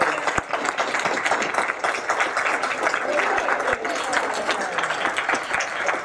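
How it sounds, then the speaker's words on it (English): A convention audience at an opening ceremony applauds the volunteers as they stand. The clapping is steady and dense throughout, a full crowd sound at moderate loudness with no break. "I'd love to give you all a round of applause"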